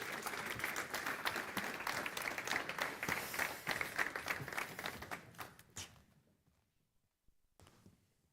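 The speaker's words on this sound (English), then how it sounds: "So give them a round of applause while they make their ways to the stage." A crowd applauds at a master's programme opening ceremony as speakers walk to the stage, with dense, sustained clapping for about six seconds that quickly dies away into near silence, then a brief faint patter.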